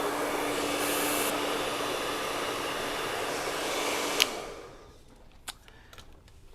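A hair dryer blow-dries a mannequin's hair over a round brush, a loud, steady close whir that cuts off near the end, leaving a quiet room with a few small clicks.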